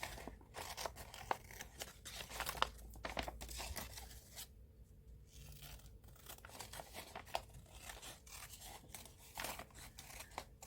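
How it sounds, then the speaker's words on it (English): Scissors cut out paper shapes for an art journal in a run of close, crisp snips with light paper crinkling and rustling between the cuts, and no voices. "So I'm just going to continue cutting the shapes"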